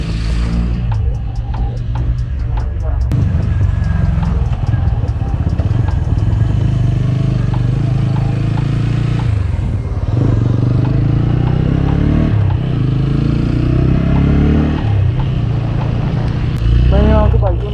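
A TVS Apache 200 4V BS6 motorcycle being ridden, its engine droning steadily and close throughout, with road rumble and someone talking over it.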